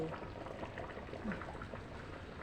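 Pork caldereta sauce at a full rolling boil in a pot, a dense, steady bubbling and popping that stays even and close throughout with no talking.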